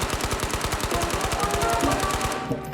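Automatic gunfire from the shooter game Ghosts of Tabor: a rapid, evenly spaced string of loud shots, roughly seven per second, sustained for the whole stretch with no talking.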